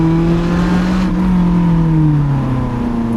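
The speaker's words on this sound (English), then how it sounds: "I just need to be on the gas a little longer for the perfect downshift blip" A Lotus Elise sports car driven over the Susten Pass mountain road makes a loud, close engine note that holds a revving tone and then slides downward through a downshift, with a brief throttle blip and no talking.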